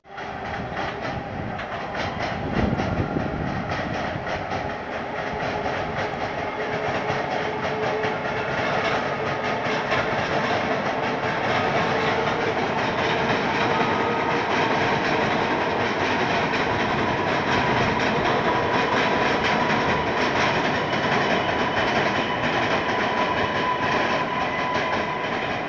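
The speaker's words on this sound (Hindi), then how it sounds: "ट्रेन दामोदर ब्रिज को क्रॉस करते वक्त का यह एक नज़ारा।" Train crossing the Damodar river bridge, a bridge without side guard rails, with steady loud rumbling and rhythmic wheel clatter throughout.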